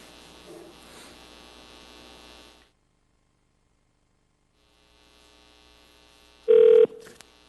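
A telephone is dialed during a meeting, with a steady mains hum and short tonal beeps, one loud and one fainter, after a stretch of near silence.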